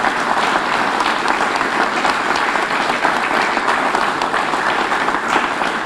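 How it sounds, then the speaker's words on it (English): Steady, full applause from an audience at a police promotions and awards ceremony, continuous and evenly loud throughout without pauses. "Please give them a round of applause. They deserve that."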